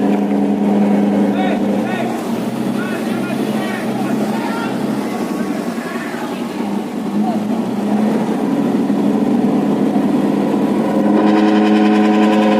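Boat engines drone loudly and steadily as vessels pull away from a fire at a shipyard in Juwana, Pati, with wind buffeting the microphone and voices faintly in the background.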